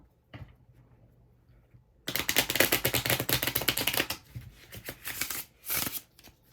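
A new, stiff deck of cards is riffle-shuffled close up, a fast crisp fluttering burst for about two seconds, followed by a couple of shorter shuffles and taps.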